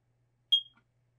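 A carbon monoxide detector in a 2024 Newmar Canyon Star RV, pressed into test mode, gives one short, sharp high-pitched warning beep with a faint trailing blip in an otherwise quiet coach.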